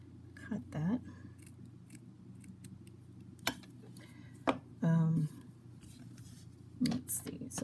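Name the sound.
cutting saddle material for model horse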